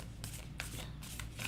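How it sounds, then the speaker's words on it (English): Starseed Oracle cards being shuffled by hand, giving soft papery riffling bursts that recur at a steady pace, close and quiet over a low background hum. "I'm shuffling."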